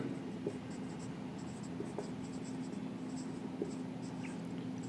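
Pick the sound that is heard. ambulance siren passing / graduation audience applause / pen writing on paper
pen writing on paper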